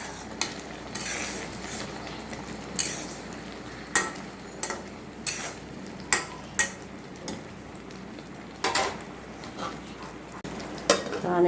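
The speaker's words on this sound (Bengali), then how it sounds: "আর এখন আমি একটু আলতোভাবে নেড়ে চেড়ে দিব।" Pumpkin murabba simmering in sugar syrup in a pot is stirred gently with a spoon, giving a series of separate scraping and clinking strokes over a soft background bubble.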